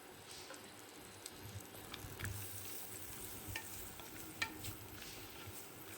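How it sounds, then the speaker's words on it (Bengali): Dry fruits frying and being stirred in melted butter in a wok for payesh: a soft, steady sizzle with faint scraping stirs and small clicks, fairly quiet and close, with no talking. "একটু বাটারটা গলে যাক তারপরে দিয়ে দেব ড্রাই ফ্রুটসগুলো ভেজে নেব"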